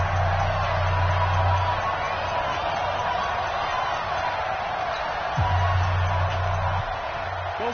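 Football stadium crowd roaring steadily to urge on the home defense on a late-game third down, a broad sustained wash of noise with a low droning hum underneath throughout.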